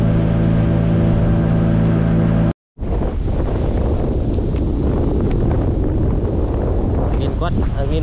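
Strong wind buffeting a fishing boat at sea during rain, loud gusty roaring against the microphone, preceded by a steady engine-like drone that cuts off abruptly, with faint voices.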